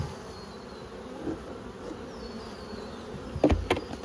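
Honeybees buzz faintly and steadily around nucleus hive frames being moved into nine-frame supers, with a few louder knocks and handling bumps near the end.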